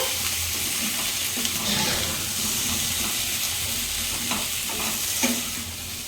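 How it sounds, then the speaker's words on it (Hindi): A raw mango chutney mixture spiced with chilli powder and salt is stirred in a hot pan, giving a steady sizzle with soft, repeated stirring scrapes and occasional clinks. "तो ये एटा को आमे भल भाव में मिक्स कर दबा।"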